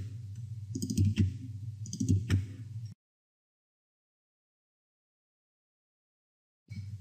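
Computer mouse double-clicking in a desktop setup, a few close clicks over a humming background, followed by several seconds of dead silence and then the hum returning.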